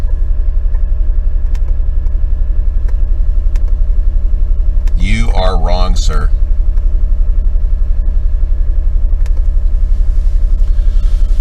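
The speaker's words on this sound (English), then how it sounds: "hopefully you can hear me over the engine. It's a very quiet engine." A quiet hybrid car engine idles as a steady low hum all the way through, someone speaking briefly over it partway in.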